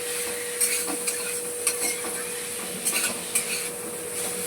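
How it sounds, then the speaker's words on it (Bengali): Ground spices, salt, turmeric, chilli, Kashmiri chilli and black pepper stirred in a pan before chicken goes in, a soft continuous hiss with a few light scraping clinks of the spatula, close and unhurried. "নেড়ে নেড়ে মিশিয়ে নেব মশলাগুলো, নুন হলুদ লঙ্কার গুঁড়ো কাশ্মীরি মির্চ আর গোলমরিচ একটু ছিল সেটা ভালো করে মিক্স করে নেব।"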